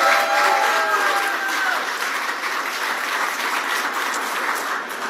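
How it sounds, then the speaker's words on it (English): An audience at an Amtrak Acela high-speed train launch event gives a steady round of applause, dense clapping from many people filling the space at full volume and tapering slightly toward the end. "I'd like to ask for a round of applause for all the people who worked on that project."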